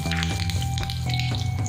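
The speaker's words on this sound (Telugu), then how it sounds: "మళ్ళీ పచ్చి శనగపప్పు, మినపప్పు వేసుకొని వీటిని మంచిగా వేయించాలి" Chana dal and urad dal fry in a pan with a soft, steady sizzle while being stirred, close up and alone, for an Andhra-style pesarattu upma.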